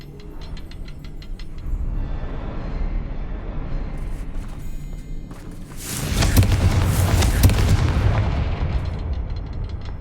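A Confringo blasting curse erupts in Hogwarts Legacy, a loud booming explosion swelling midway through the clip and rolling on over a steady bed of game ambience, with no talk.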